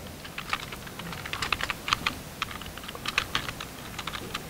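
Typing on a computer keyboard comes through as steady clusters of light key clicks at a moderate pace, close and fairly quiet, with no voice over it.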